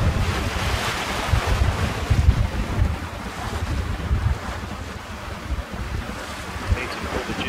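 Strong wind of about 20 knots roars across the microphone while waves wash and slap against a small single-handed trailer sailboat under way. The blustery noise is loud and continuous, with no talking.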